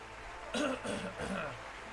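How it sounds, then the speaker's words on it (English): A single harsh throat clear, two short rough bursts close to the mic, against a quiet background hum. "I just need to clear my throat."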